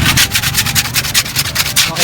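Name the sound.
sanding a wooden speaker box with 120 grit sandpaper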